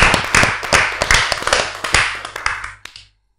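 Clapping from a Bonek football supporter crowd at a ludruk comedy show in Surabaya, a burst of rapid, uneven hand claps and taps for about three seconds that ends abruptly, with no talk over it.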